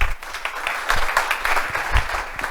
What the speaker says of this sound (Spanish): Así que empezará Ernesto, pero yo pido un aplauso para los dos.